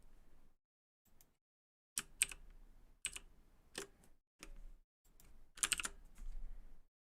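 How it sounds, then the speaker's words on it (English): Bursts of typing on a mechanical keyboard fitted with red switches, rapid clacking keystrokes in several clusters separated by short pauses, close and fairly quiet during a coding session. "I think these are red switches, but I just bought the keyboard it came with them."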